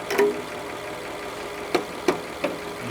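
A car engine idling low and steady with a faint rattle, while a few sharp metallic pings or knocks cut through near the end of the clip, with no voices.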